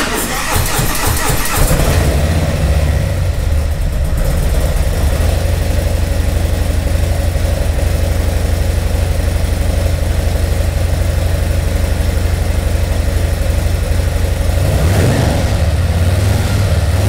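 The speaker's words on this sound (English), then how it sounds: "It's the very first startup on this whole fresh engine." A freshly rebuilt Harley-Davidson Milwaukee-Eight Stage 4 motorcycle engine cranks, fires for its first startup and settles into a loud, steady, throbbing idle, close up, with a brief rev toward the end.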